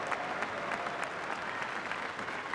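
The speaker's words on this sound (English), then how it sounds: "The crowd urging him on." Football stadium crowd noise urging a player on, a dense, steady wash of distant cheering and clapping from many spectators, with a commentator's voice faintly present.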